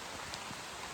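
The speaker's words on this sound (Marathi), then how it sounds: "आताच पाऊस चालू झाला आहे" Rain begins falling during crab catching in the Konkan countryside, a steady soft hiss of drops spread evenly with no distinct individual impacts.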